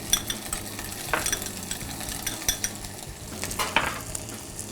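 Steady sizzling of pancetta and vegetables frying in a pan, with occasional clinks and stirring scrapes of a utensil, no voices.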